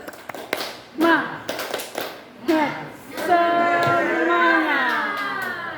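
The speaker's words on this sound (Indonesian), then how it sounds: "Oke, tepuk semangat, tepuk semangat." A group gives a rhythmic spirit clap at a school in-house training session at SMP N 3 Muntok: a series of sharp, close hand claps, interleaved with and then overtaken by voices speaking and chanting loudly.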